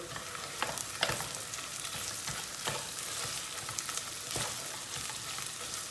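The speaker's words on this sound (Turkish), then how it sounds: "Kıymayı içinde güzelce bir dağıtacağız." Minced meat fries in a pan over browned onions and is stirred and broken apart, a steady broadband sizzle with repeated sharp scraping strokes of the utensil, close and continuous without talk.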